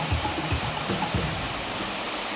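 Fifth tier of Erawan waterfall, a steady broadband rush of falling and flowing water close by, with a few low thuds and splashes in the first second before settling into an even roar.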